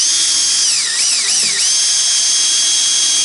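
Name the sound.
power drill drilling a small pilot hole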